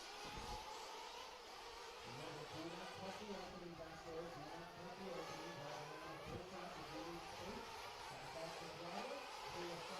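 Several nitro-powered 1/8-scale RC truggies rolling out together at the start of a dirt-track qualifying heat, their small engines buzzing and revving in overlapping wavering whines at a distance, with a commentator talking over them.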